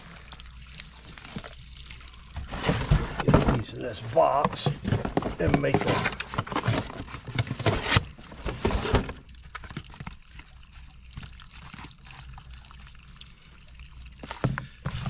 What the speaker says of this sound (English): So now we got the water draining out of that one.